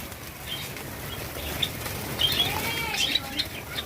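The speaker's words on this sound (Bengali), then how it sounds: "যেহেতু আমি ফার্মে ঢুকেছি খুব ওড়াউড়ি করছে পাখি" White Java sparrows flap their wings inside a farm enclosure, a soft steady fluttering with scattered short high chirps from several birds, close and fairly quiet.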